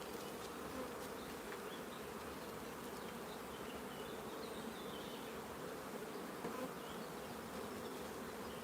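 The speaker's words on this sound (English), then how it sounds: "You can see the bees in this box are so prolific." Bees buzz densely and continuously around a hive box during a nuc transfer, a steady close swarm hum with individual bees droning past, no voices.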